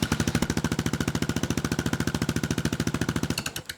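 A 2023 Kawasaki KLR 650 single-cylinder motorcycle fitted with a Staintune exhaust runs close by, producing a steady, rapid thumping exhaust pulse at idle that lasts several seconds before briefly fading.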